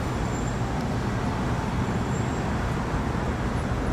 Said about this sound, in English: traffic noise is not.